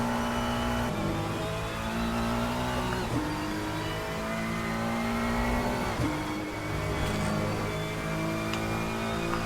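A race car in Le Mans Ultimate laps the Qatar track. Its engine blares loud and close, climbing through the gears with repeated upshifts and short drops as it brakes, and nobody talks over it.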